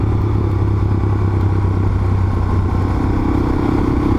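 A Suzuki DRZ 400S dual-sport motorcycle with a free-flowing exhaust running lean runs steadily close by, its engine droning with a rapid clattering, popping texture throughout.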